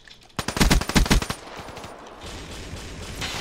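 Rapid bursts of automatic gunfire in an online shooter game, a loud close volley of about a dozen shots followed by a softer, scattered clatter of distant fire.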